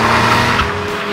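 A Porsche 911 Carrera S engine revs hard and close, a loud, steady high-pitched mechanical howl with tyre noise underneath, lasting about a second.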